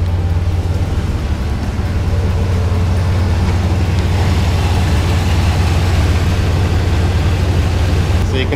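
Chevrolet S10 Blazer engine running steadily after installation of dual electric cooling fans, a continuous low rumbling drone that holds at an even, loud level throughout with no talking.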